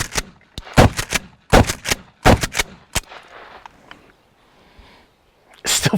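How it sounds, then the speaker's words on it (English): A Mossberg Shockwave shotgun is fired several times outdoors, loud sharp reports in uneven bursts with short gaps, then a quiet stretch before one more shot. "So you want to shoot it a few more times?"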